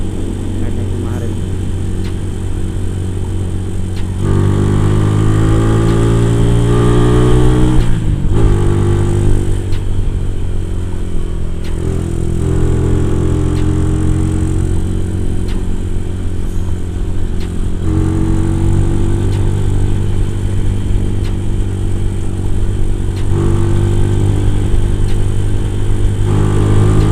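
A Honda Tiger motorcycle fitted with a PWK 28 carburetor runs with its engine revving up around 7000 RPM, loud and close, with rising and falling rev sweeps and someone talking over it.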